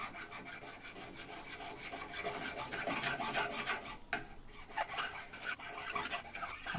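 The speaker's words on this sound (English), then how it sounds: "Just got a really fine file here." A fine file rasps steadily across a slingshot being shaped, making a continuous close scraping of repeated strokes with a few brief breaks and no talking.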